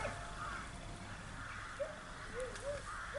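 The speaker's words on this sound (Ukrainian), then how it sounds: "І тут на деревах ночують птиць багато, каркають" Crows cawing in trees on the bank of the Dnipro river at evening, a few short calls scattered at a distance over steady outdoor ambience.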